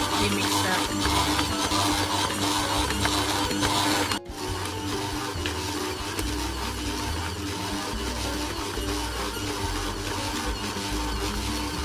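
Stand mixer kneading soft milk bread dough, a loud steady motor drone with rhythmic thumping, continuous and close, with a brief dip partway through.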